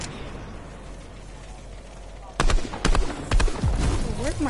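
Sharp sniper rifle shots crack in a shooter video game, several distinct loud reports spaced irregularly after a quieter stretch, with a player talking over the action.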